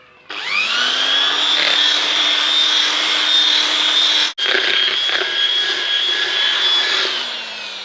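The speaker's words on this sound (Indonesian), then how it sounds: "Kemudian kita aduk menggunakan bor beton." A loud concrete drill whirs continuously while churning a thick coconut milk mixture, with a brief stop midway before spinning up again and winding down.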